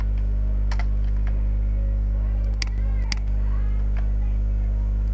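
Code is typed on a computer keyboard in a few scattered, sharp key clicks over a loud, constant electrical hum.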